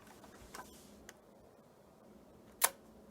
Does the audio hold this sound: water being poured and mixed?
no